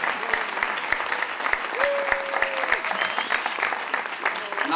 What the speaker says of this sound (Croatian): Molim vas, pozdravite i njih jednim velikim pljeskom.